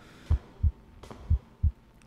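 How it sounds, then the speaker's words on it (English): Heartbeat sound effect from the horror video game [REC] Shutter: four deep, muffled thumps in two lub-dub pairs, close and prominent over a soft ambient music bed. "the heartbeat melds very nicely into the music, the sound in the background"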